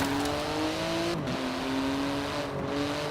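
A 700-horsepower 3.8-litre twin-turbo flat-six sports car in Forza Horizon 4 drones steadily under acceleration, its pitch climbing and then dipping at two gear changes, close and continuous.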